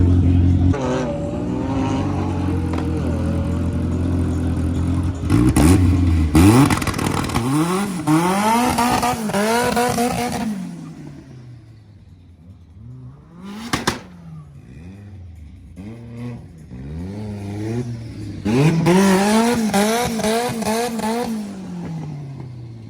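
Front-wheel-drive race cars roar past in a European championship final at a Scottish raceway, engines revving hard through gear changes, swelling loud as they pass, fading, then surging again as more cars approach.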